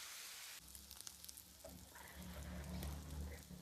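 Mixed fish coated in special masala fries in hot oil, a close, continuous crackling sizzle with scattered pops that grows fuller and louder toward the end.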